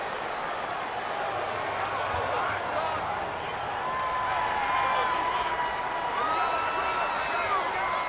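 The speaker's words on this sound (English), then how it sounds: "The crowd's not doing that O-line any favors." Stadium crowd in Madden NFL 19 roaring steadily as the home fans try to drown out the offense before the snap, a dense, continuous wash of cheering with no break.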